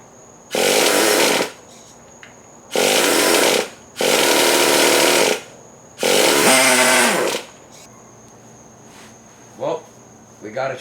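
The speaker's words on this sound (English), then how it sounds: "we got a internal combustion engine to run off of water. We got it to rev up" Small internal combustion engine fed by an HHO generator splitting water, revving in four loud bursts of about a second each, dropping back between them, with faint clicks and a steady high whine behind.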